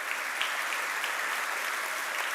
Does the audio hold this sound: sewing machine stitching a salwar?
no